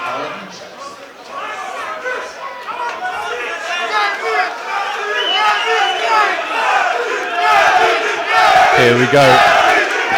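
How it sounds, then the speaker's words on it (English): A large crowd at a fight between Kledi Disha and Brogan White roars and yells continuously, growing louder toward the end, while an announcer talks over the din. "Crowd here is going absolutely wild for this one."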